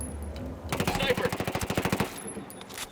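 A rapid burst of automatic gunfire in Ghost Recon Wildlands, about a dozen close, sharp shots rattling off in quick rhythm for just over a second, with quieter ambience before and after.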